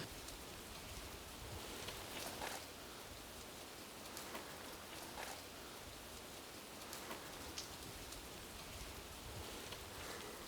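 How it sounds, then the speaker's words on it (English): Rain falls in a steady, even hiss with occasional slightly louder patters, fairly faint and continuous, with no one speaking. "We're actually getting some rain."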